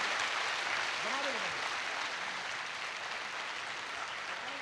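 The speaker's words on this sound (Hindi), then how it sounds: "एक बार दोनों हाथ उठाकर जोरदार तालियों के साथ गजेंद्र प्रियांशु का स्वागत करें" Steady, dense applause from an audience welcoming a performer at a Hindi comedy poetry gathering. It runs unbroken across the whole stretch, with a voice briefly rising over it.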